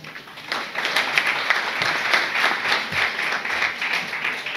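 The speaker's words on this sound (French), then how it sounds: "il faudra faire un très grand applaudissement à Moustapha Diouf." Applause from an audience at an integration day and employment panel, many people clapping in a dense, lively burst that swells quickly and holds steady, with no talk over it.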